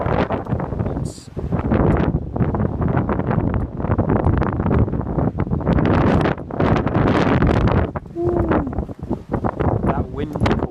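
Strong wind gusting across Ballintoy Harbour at dawn, buffeting the microphone in loud, uneven bursts with brief lulls, sea wash faintly beneath and a voice talking briefly in the middle.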